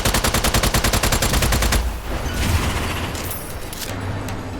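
Rapid submachine gun fire from the Strange Brigade video game, a loud steady burst for nearly two seconds, then fading into rumbling explosions and ambient game noise, with no talking.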